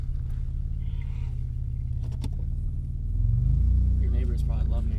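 Honda Accord fitted with dual eBay mufflers, a deep steady exhaust rumble close by that swells louder toward the end, with a voice talking briefly over it.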